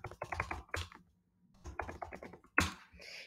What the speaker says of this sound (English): Simply write keywords and click enter to add them here.